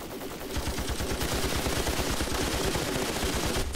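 Sustained rifle fire in the Ravenfield video game: a loud, rapid, evenly spaced stream of shots that runs almost without a break from start to finish.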